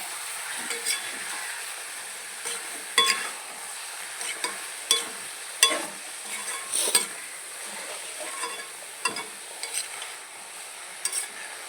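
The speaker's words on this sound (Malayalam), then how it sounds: "ഇട്ട് കൊടുക്കട്ടെ ഇളക്കി കൊടുക്കാം" Ivy gourd (kovakka) frying in a pan is stirred with a utensil, soft continuous sizzling broken by repeated sharp scrapes and clinks of the spoon against the metal pan.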